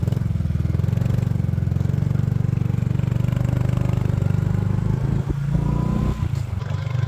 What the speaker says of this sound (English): So one thing about riding on a motorbike is your legs and hips.